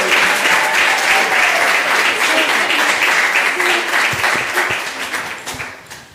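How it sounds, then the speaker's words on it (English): An audience applauds at a beauty panel event in New York City for Vanessa Hudgens: dense steady clapping from a full room, loud at first and then tapering off over about six seconds. "So let's give her one round of applause."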